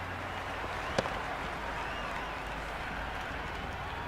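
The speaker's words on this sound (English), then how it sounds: "Will you listen to that crowd? They are loving this." A virtual stadium crowd in the Cricket 26 video game, at an India vs New Zealand T20 match, roars in a continuous wash of cheering noise with one sharp click near the start.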